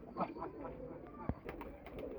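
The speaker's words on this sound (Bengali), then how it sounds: "তিরিশ চল্লিশটা অনেক কবুতর" A flock of thirty to forty pigeons coos softly nearby in a short burst, with a faint background murmur and a brief sharp knock midway.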